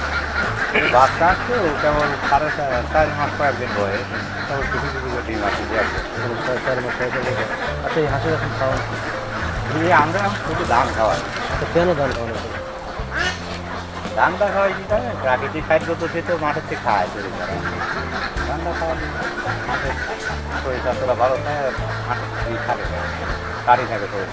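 A large flock of ducks at a duck farm quacks continuously, a dense, honking chorus close by that keeps going with no pause.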